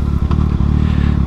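A Harley-Davidson Iron 1200 rides up a mountain road, its engine giving a loud, close, steady low thumping drone with rhythmic pulses and a little clatter, recorded by a GoPro-mounted microphone with no voices.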